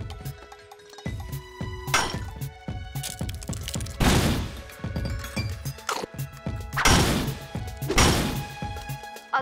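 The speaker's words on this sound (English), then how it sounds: "These baby-smashing hammers are great." Cartoon sledgehammers smash through minerals in a series of loud crashing impacts, each with a ringing, clinking tail, arriving in irregular bursts over several seconds.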